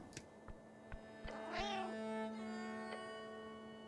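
One drawn-out meow from a cat in the video game Esoteric Ebb rises and falls mid-clip over a low steady hum and a few soft clicks.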